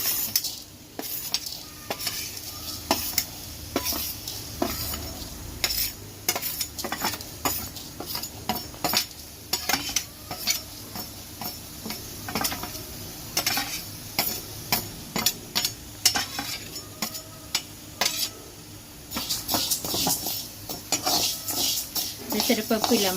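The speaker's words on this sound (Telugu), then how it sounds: "ఉట్టిన డ్రై రోస్ట్ పెసరపప్పు ఇలా వేయించుకోవాలి" Moong dal (pesarapappu) dry roasts in a pan without oil, giving repeated scraping and rattling strokes of stirring in an irregular rhythm, close by, with someone talking over it at times.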